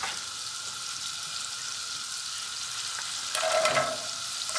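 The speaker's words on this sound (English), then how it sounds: "So I already started melting 4 tablespoons of butter. So while that is melting, we're going to go ahead and add our onion and our celery." Onion and celery sautéing in four tablespoons of melted butter give a steady, soft sizzle that swells briefly louder near the end as the vegetables settle into the pan.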